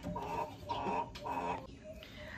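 Hens at a chicken farm, including Rhode Island Reds and native and hybrid birds, cluck in short repeated bursts close by against a steady farmyard background.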